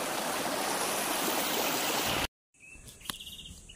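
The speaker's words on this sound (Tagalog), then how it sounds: "Napapasok sa napakagandang ilog na natuklasan ko" A river flows with a broad, steady rushing wash for about two seconds, then cuts off abruptly, followed by quieter ambience with a faint click.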